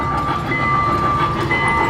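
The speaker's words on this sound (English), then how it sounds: "They have a train ride here." A ride-on train at the IMG Worlds of Adventure theme park rumbles past close by, a loud, steady rolling clatter with a faint whine that lasts throughout, and no voices.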